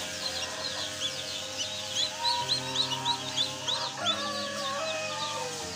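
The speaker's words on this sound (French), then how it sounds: "voici l'oison dont nous avons aidé à sortir de l'œuf hier" A newly hatched gosling, freshly dried and lively, peeps repeatedly in short high chirps close by, over a steady background hum.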